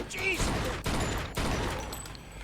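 Gunfire during a shootout in the Mafia 2 Joe's Adventures DLC: three sharp, close shots with brief decays amid game sound and a whistling tone, with no clear talk.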